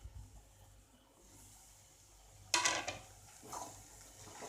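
Bread upma, bread pieces mixed with tomato and onion, being stirred in a pan with a spoon; a loud scraping clatter bursts in midway, with softer scrapes after and a low hum underneath.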